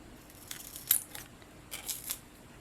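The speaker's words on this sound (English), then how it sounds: "then we will cut it in half down the middle." Scissors snip through a strip of cardstock for a spring greeting card, a few quiet crisp cuts spaced over a couple of seconds, close and alone with no talking.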